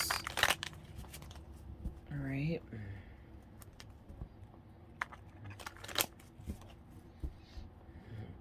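Tarot cards are shuffled in a couple of big riffles with crinkly, papery bursts, heard close and quiet while a person speaks softly in between.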